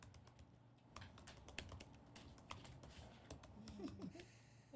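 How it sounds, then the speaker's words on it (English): Rapid clicking of fingers typing on a computer keyboard, irregular quick keystrokes close by and fairly quiet, with a brief low voice in the background. "I like your typing skills."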